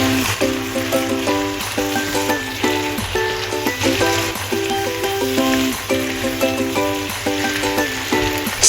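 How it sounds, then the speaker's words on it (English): Sweet potato leaves stir-fry in a wok over high heat, a steady loud sizzle with occasional stirring scrapes, while a light melodic tune plays in the background. "Stir-fry sweet potato leaves over high heat for just 1 to 2 minutes."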